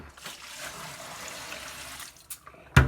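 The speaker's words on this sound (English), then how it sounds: "Now you got your soapy water. You just pour that out." Soapy water poured out of a container, a soft continuous splash and trickle that runs steadily, then stops with a brief louder clunk at the end.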